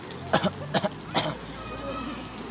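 A person deliberately coughs to demonstrate, as part of coronavirus health advice: three short, harsh bursts close up in quick succession, then quiet room tone.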